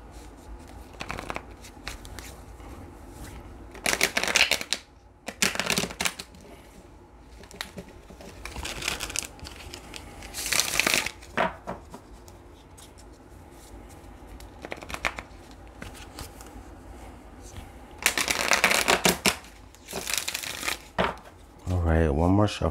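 Tarot cards are shuffled repeatedly in short riffling bursts, close and crisp, with quiet talking between the shuffles and a quick rapid flutter of cards at the end.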